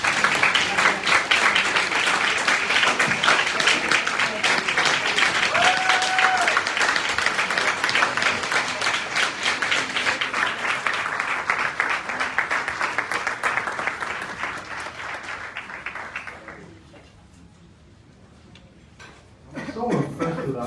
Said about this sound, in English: Give another round of applause for all of us.